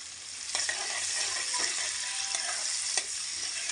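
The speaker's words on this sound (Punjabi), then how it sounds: "ਹੁਣ ਆਪਾਂ ਇਹਦੇ ਵਿੱਚ ਪਿਆਜ਼ ਐਡ ਕਰ ਦਿੰਨੇ ਆ ਜਿਹੜੇ ਕੱਟ ਕੇ ਰੱਖੇ ਤੇ ਪਿਆਜ਼ਾਂ ਨੂੰ ਆਪਾਂ ਬ੍ਰਾਊਨ ਹੁੰਦੇ ਤੱਕ ਪਕਾਵਾਂਗੇ" Chopped onions fry in ghee with a dense, bright, continuous sizzle, close and steady throughout, and a few soft scrapes of stirring, with no talking.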